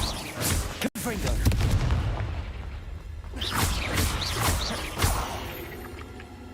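Confringo fire spell cast in the video game Hogwarts Legacy, with booming, crackling impacts and whooshes that roll out over several seconds, overlapped by a spoken voice.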